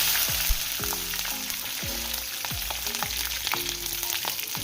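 Fenugreek, mustard seeds and urad dal fry in hot oil for a Tamil Nadu style fish curry, giving a close, steady sizzle dotted with small pops and crackles.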